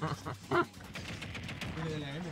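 Gunfire effects from Duck Hunt in the Super Smash Bros video game crackle in quick, sharp bursts, mixed under lively voices talking over the action.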